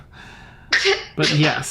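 Two quick sneezes from a person at a tabletop role-playing game session, the first a sharp close burst and the second a longer one, preceded by a soft breathy intake, with a few words spoken nearby.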